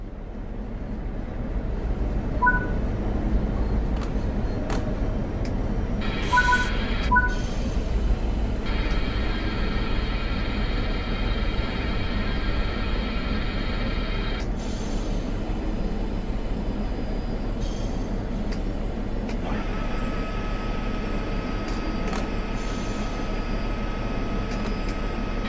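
A train in Train Sim World 3 on the Rhein-Ruhr Osten route brakes to a halt, a steady low rumble of rolling stock with hissing air and tonal brake whine rising and falling over time.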